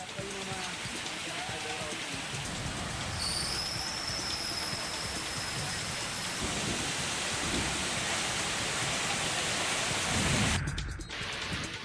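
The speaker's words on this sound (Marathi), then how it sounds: "शहरासह ग्रामीण भागात देखील वादळी वारा आणि मेघगर्जनेसह पाऊस पडतोय" Steady heavy rain hisses throughout with low thunder rumbling underneath; the downpour stays loud and continuous, cutting off abruptly near the end.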